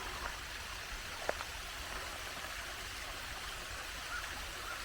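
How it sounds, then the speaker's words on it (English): A tall waterfall in Victoria Park running with little water, heard as a steady broadband rush close by, with a brief faint click partway through. "I didn't expect that the waterfall would be this close, but there it is."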